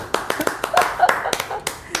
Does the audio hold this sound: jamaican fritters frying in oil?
no